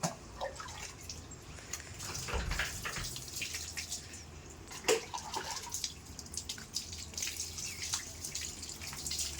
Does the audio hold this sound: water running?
yes